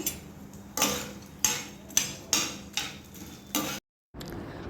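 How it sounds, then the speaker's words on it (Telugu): A pan tempering of chana dal, urad dal, mustard seeds, cumin and garlic slices is stirred in about seven sharp, regular scraping strokes over a faint sizzle, followed by a brief silence. "ముందుగా పోపు వేయించుకుందాము ఈ మినపప్పు శనగపప్పు జీలకర్ర వెల్లుల్లి రేకలు ఆవాలు వేయించుకొని"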